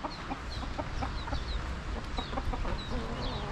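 Chickens and small chicks in a village yard cluck and peep steadily, with bright chick cheeps scattered over a continuous bed of hen clucking, close and fairly loud, with no talking.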